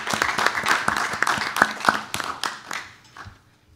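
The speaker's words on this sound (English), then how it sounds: "I do believe a round of applause is certainly warranted" Applause at a school board meeting: scattered hand claps from a small group of people in a meeting room, a few distinct loud claps standing out before the clapping thins and fades away.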